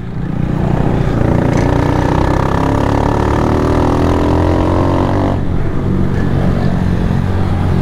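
A 2022 Honda Start 160 motorcycle with engine trouble is bump started; its engine runs loud and close with a steady mid-pitched drone and a brief dip near the end, with no talking.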